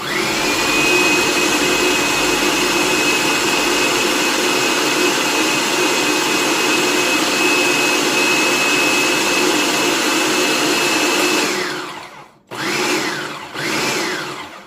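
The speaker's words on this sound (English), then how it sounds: "We're just gonna go ahead and blend this up." A blender blending a Chihuahua cheese pupusa filling runs at a steady loud whir for about twelve seconds, then stops and gives two short pulses.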